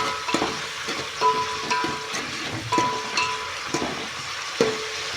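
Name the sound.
masala and fenugreek leaves frying in oil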